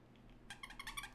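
A cat gives a short, faint meow, a quick pair of rising and falling notes over a soft background hum.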